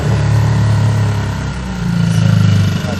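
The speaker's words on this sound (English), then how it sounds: "How do you stop the engine? Really loud." Loud boat engine idling on a yacht in the Mediterranean off Crete, a steady low throbbing rumble close by with a slight rise in revs, and faint voices underneath.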